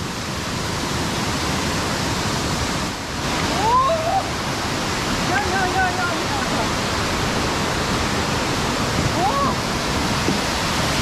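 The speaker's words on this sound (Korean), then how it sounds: "와 여기가 무릉계곡 폭포인가 봅니다" A loud, constant roar of a waterfall in a mountain valley fills the scene, broadband rushing water with faint chirps of birds barely audible above it.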